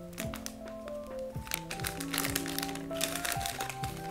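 Plastic packaging crinkles and crackles in a series of close, irregular rustles and crunches as a toy doll-luggage set is unboxed.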